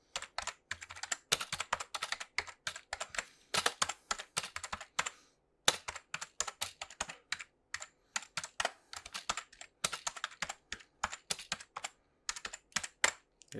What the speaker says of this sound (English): Give you a little typing test here.